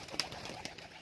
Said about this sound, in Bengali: তো দেখো পায়রা সব এক একে সব বেরোচ্ছে,